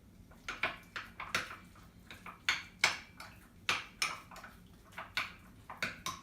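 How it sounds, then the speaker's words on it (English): Spoon scraping and clinking in a bowl while stirring sliced banana into a cottage cheese chocolate pudding, a steady rhythm of close, repeated strokes with no talking. "We're going to mix this together."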